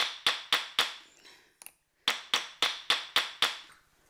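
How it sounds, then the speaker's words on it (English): Sharp, evenly spaced metal taps hammer small pieces for champleve enamel into domes, ringing briefly and close, in two bursts of about four and six strikes with a short pause between. "we're going to dome them a little bit and file them and make them nice"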